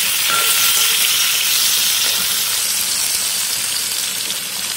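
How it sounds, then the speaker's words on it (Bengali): Pointed gourd (potol) slices frying in oil in a pan, a loud, dense, continuous sizzle heard close up with no voices. "পটল ভাজা হচ্ছে।"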